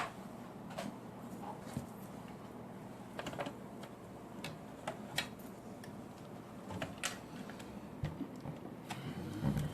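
A sewing machine stitches fabric, backstitching at the end of the seam: a steady mechanical whir with fast ticking clicks runs close and continuous throughout, with no talking.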